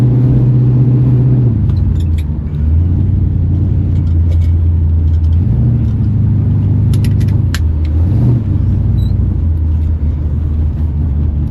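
Steady low road rumble and tire noise inside a moving 1964 Plymouth with a new big-block Mopar engine, the engine note shifting a few times as it changes speed.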